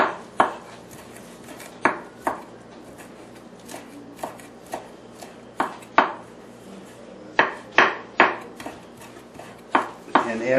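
A knife chops fresh cilantro on a cutting board shared with vegetables, giving a run of sharp, close, irregularly spaced thuds that come in quick bursts with short pauses between them.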